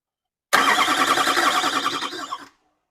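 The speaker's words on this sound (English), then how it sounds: "that sounds like a Duramax turning over" A Duramax LB7 diesel engine cranks over for about two seconds after the starter is jumped, a close, loud, steady churning whir that cuts off abruptly without catching, with no voices.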